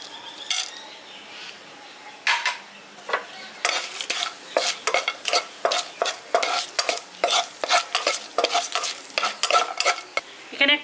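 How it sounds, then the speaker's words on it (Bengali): Bay leaves and whole garam masala (cardamom, cinnamon, cloves, nutmeg and mace) hit hot oil for a village-style pulao, sizzling close and loud, then rhythmic stirring scrapes in a steady repeating beat. "এবার এটার মধ্যে দিয়ে দিচ্ছি 2টো তেজপাতা। তার সাথে আমি দিয়ে দিচ্ছি, এখানে আমি গোটা গরম মশলা নিয়ে নিয়েছি, এলাচ, দারচিনি, লবঙ্গ।"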